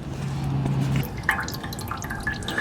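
Old coolant draining out of a 2003 Infiniti G35 radiator into a catch container, a steady trickle with scattered drips, close and moderately loud.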